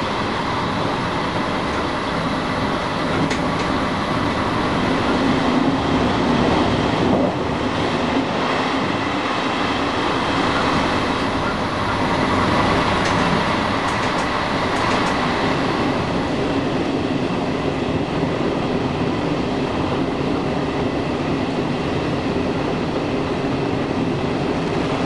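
A Trenord ALe 582 electric train runs toward Brescia with a steady, loud rumble and rail noise, faint clicking of wheels over joints, sustained for the whole stretch without voices.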